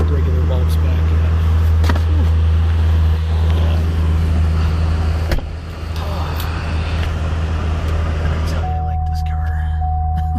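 A Duramax LB7 diesel truck engine runs inside a shed after a cold start, a loud steady low rumble throughout, with a person speaking over it and a faint high tone appearing near the end.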